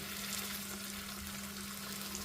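Whole spices tempering in hot oil for a grated raw mango pickle, a steady close sizzle and crackle of frying with a faint low hum underneath, no voices.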